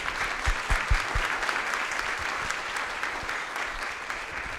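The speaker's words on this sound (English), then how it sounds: "let's give our panel a warm round of applause to welcome them here today" Audience applause welcoming a discussion panel on social determinants of health at a 2023 RISE event, a steady wash of many hands clapping for several seconds with a few louder nearby claps, no talk.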